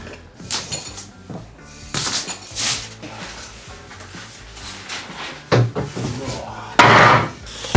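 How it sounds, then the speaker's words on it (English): Carpenter laying 15mm hinoki cypress wood floorboards over a subfloor, with a series of irregular wooden knocks, thumps and clattering impacts of boards being set in place, some sharp and loud, close by. "I'm laying 15mm hinoki cypress floorboards over the subfloor from last time."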